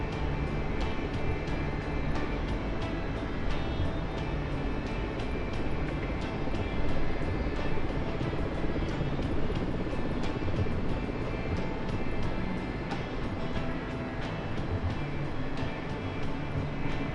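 A BF-109K aircraft engine drones in the DCS flight simulator game, a loud, dense, unbroken roar that stays steady throughout.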